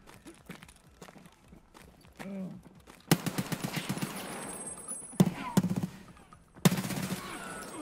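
Escape from Tarkov firefight: a quick run of shots, then loud rapid bursts of automatic fire with sharp single cracks, close and punchy, and speech heard early on.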